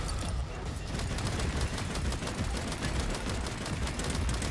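Dense, sustained gunfire from the video game Far Far West, with rapid overlapping shots and bursts roaring continuously and loudly throughout.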